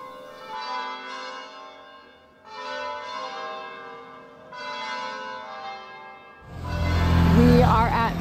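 Church bells ringing in Italy near Forte dei Marmi, three long resonant peals with lingering decay, followed by a louder, denser burst of clanging near the end.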